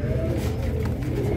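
Low, steady cooing of Teddy and Dabwalay pigeons in Lahore fills the clip, a continuous soft murmur of several birds close by.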